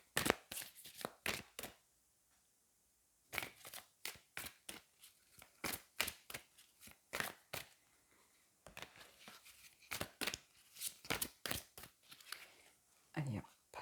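Angel oracle cards are shuffled in quick, close riffling bursts, broken by a brief pause and then a run of sharp card snaps. The sound is quiet, and no speech is heard over it.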